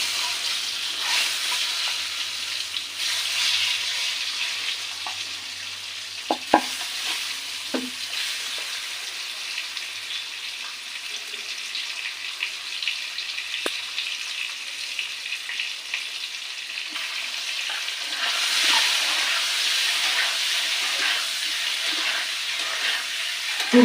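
Halved boiled eggs, slit open, fry in hot oil with turmeric, giving a steady close sizzle with occasional soft clicks of stirring and no voices.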